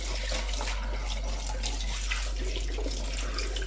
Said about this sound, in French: Donc là, je rince bien.